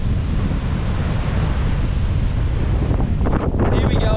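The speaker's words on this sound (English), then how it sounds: "A bigger storm, bigger waves, more wind, more rain." Strong wind and crashing waves roar steadily around a boat out at sea during a storm, a loud, constant broadband rush without a break, with a brief higher whistle toward the end.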